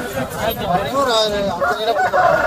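Rooster crowing at the Kunnathur Monday rooster market, a drawn-out crow rising over nearby chatter and bargaining voices, with other fowl noises mixed into the busy market din.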